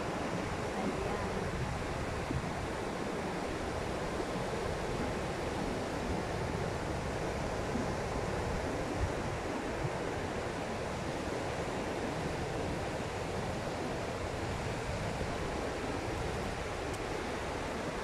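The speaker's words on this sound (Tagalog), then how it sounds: "Paalon ngayon yung dagat ngayon." Waves from a mildly choppy but mostly calm sea wash steadily against the shore, a continuous broad rush of surf with no clear pauses, heard fairly close.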